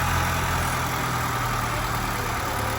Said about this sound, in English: Engine starts up no problem.